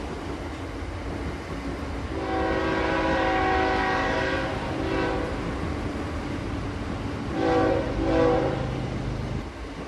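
A Shatabdi Express train runs steadily throughout, its rumbling carriages swelling louder midway with brief tonal, horn-like bursts, then easing before another short rise near the end; no one speaks.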